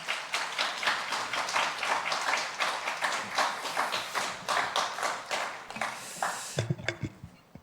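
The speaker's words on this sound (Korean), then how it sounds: "나오실 때 큰 박수로 환영하겠습니다" A congregation claps in welcome as a pastor comes up to speak at a university chapel service. Dense, steady applause fills the room for about six seconds, then thins out into a few scattered claps and soft thumps.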